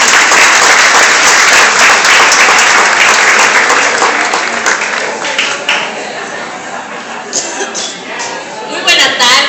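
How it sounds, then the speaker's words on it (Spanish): An audience applauds loudly at a gathering of a provincial governor with merchants and the chamber of commerce, steady clapping that fills the space and slowly thins toward the end, with some murmuring underneath. "Pido un fuerte aplauso para ellas."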